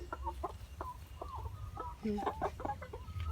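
Laying hens give short, faint, scattered clucks over a low background hum, with one slightly louder burst midway and no voices.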